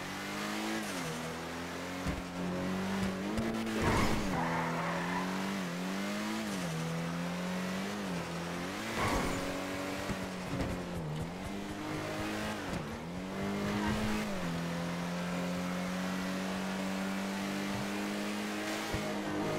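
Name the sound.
Ubermacht car engine and tires in GTA Online video game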